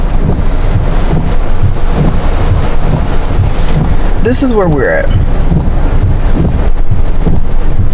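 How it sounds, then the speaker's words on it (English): Heavy rain and gusting wind, a loud, constant roar of downpour and buffeting air, with a brief whooshing sweep midway and someone speaking briefly over it. "And it's heavy rain. It's not even like light rain, it's heavy rain."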